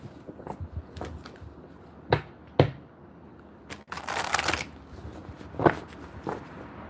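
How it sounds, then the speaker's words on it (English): Cards being shuffled give sparse, close, crisp taps and riffles, with a longer rustling burst in the middle and a few sharp clacks spaced across the quiet stretches. "One more shuffle."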